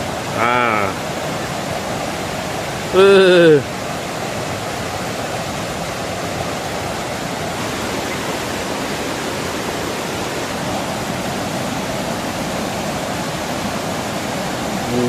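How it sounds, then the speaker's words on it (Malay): A fast-flowing forest stream at Edu-Forest UPSI, a steady broadband rush of water close by, with two short voice bursts over it near the start. "Mak laju air dia."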